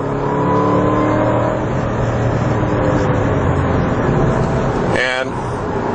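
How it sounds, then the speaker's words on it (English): A Ford Mustang Roush 427R Trak Pak on a race track roars loudly and steadily throughout, its V8 engine droning with shifting harmonics and a brief rising whine near the end, with a voice talking over it. "they win a prize with the sound this car makes."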